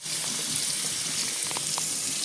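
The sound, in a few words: washing the wet grinder's stone under running water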